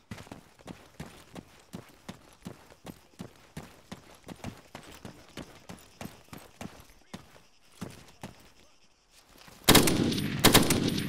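A G27 rifle from the ArmA 3 Bundeswehr mod fires a long string of evenly spaced single shots with crisp, sharp reports, then a short pause and a louder, denser burst of fire.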